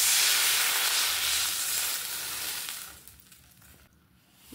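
Water poured into a hot pan of vegetables, with salt just added, sets off a loud hissing sizzle that gradually fades and settles over several seconds, close by.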